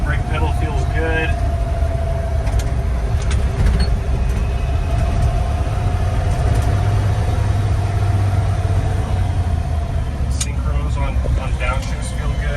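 A 1951 GMC 3100 pickup truck drives along with a steady low engine drone and road rumble, including a downshift into second gear, while a voice talks over it.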